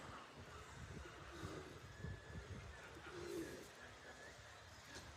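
Pigeons cooing softly in the rain in an old Boston graveyard, low repeated coos at moderate distance over steady rain and outdoor ambience.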